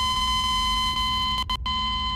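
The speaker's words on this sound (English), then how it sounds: "I just might hear the beeping." An electronic alarm in Team Fortress 2 beeps steadily in a sustained tonal drone, loud and continuous, briefly dipping before resuming, with no talking.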